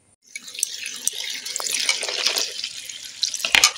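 Cut hog plums are washed under a running kitchen tap, close splashing water with small clatters and drips, brief and alone.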